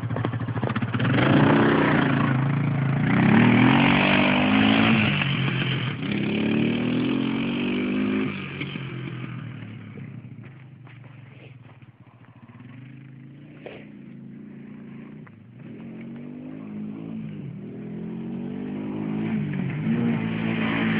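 An Arctic Cat 500 engine revs hard with rising and falling pitch, loud and close at first, then settles to a quieter, rougher idle with a few more short revs near the end.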